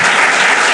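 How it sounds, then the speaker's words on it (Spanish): An audience applauding to send off a speaker at a conference on gender violence, a dense, loud burst of many hands clapping together, close and continuous. "ahora os voy a pedir otro fuerte aplauso"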